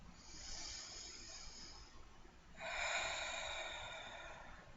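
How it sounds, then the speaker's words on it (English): One slow, deep breath drawn in and then released close to the microphone, a soft airy hiss that swells in the second half in an otherwise quiet setting. "Another nice deep breath."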